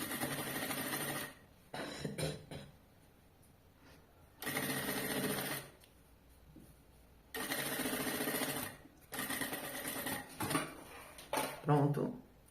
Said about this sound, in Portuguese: E vamos costurar até a marcação de 9 centímetros que eu fiz.